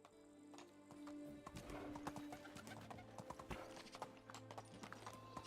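Horse hooves clip-clopping at a steady gallop in the medieval game Medieval Dynasty, rhythmic and continuous, with faint game ambience underneath.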